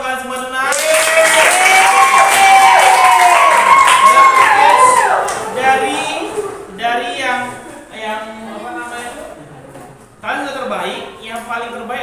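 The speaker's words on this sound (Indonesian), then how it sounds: "Beri tepuk tangan buat kalian semua." Ninth-grade classroom students clapping loudly together for about five seconds, then the applause fades as a voice speaks, with scattered claps and talk continuing afterward.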